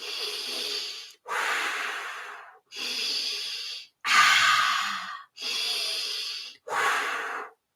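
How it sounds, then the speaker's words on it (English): Six forceful breathwork exhalations, each a sustained blowing or sighing breath about a second long, separated by brief pauses in a steady rhythm, close and fairly loud with no talking. "You can choose blow, sigh, you can alternate, you can pick one."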